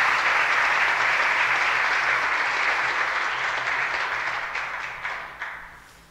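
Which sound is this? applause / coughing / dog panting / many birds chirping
applause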